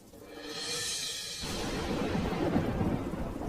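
Thunder rolls loudly over steady rain during the monsoon near a kitchen over a pond, the deep rumble swelling into a broad continuous downpour with no voices.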